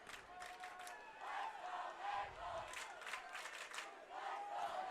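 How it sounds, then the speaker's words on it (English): An Adrian Maples home crowd at Maple Stadium roars and chants at a night high school football game against Tecumseh, with sustained distant cheering that rises in rhythmic waves. "you can hear how much the Adrian Maples crowd wants their team to win"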